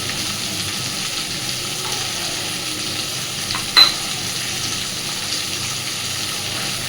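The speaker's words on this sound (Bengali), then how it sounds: "রসুন বাটাটাকে দিয়েও আবারও খুব ভালোভাবে কষতে থাকবে" Garlic paste frying and being stirred with potatoes and small puti fish for a spicy chorchori, a steady close sizzle with one brief sharp clink partway through.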